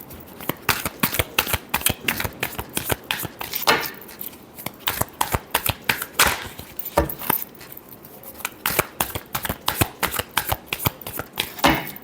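Tarot cards being shuffled by hand, heard as close, crisp bursts of riffling and flicking that repeat in quick clusters with brief pauses between, loud and alone without talk.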